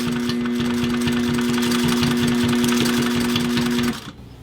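A sewing machine stitches a DIY tactical chest rig in a steady, loud, even motor whir with rapid needle clatter, running continuously for about four seconds before stopping abruptly.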